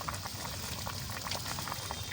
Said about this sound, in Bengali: এবার ঝোল ফুটে উঠেছে